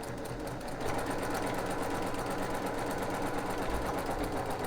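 A sewing machine stitches a quarter-inch seam on a quilt block, a continuous fast mechanical whirr with rapid rhythmic needle ticking, steady and close.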